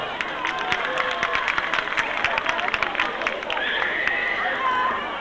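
Applause from a concert audience, a steady mass of hand clapping mixed with crowd chatter and cheering, continuous and fairly close throughout.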